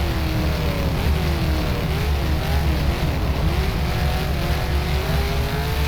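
Kiwi SuperStocks stock car engine at Waikaraka Speedway in rFactor, a loud continuous droning roar held steady under light throttle with no pauses.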